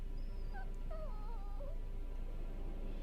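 Torgal, the wolf-like dog in Final Fantasy 16, lets out several thin wavering whimpers and whines, soft and intermittent over a steady low ambient rumble.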